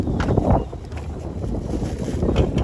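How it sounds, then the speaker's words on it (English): Gusty wind buffets the microphone, a steady low rumble with rising and falling surges throughout. "That's windy today."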